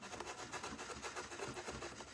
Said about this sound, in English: I have been sanding it.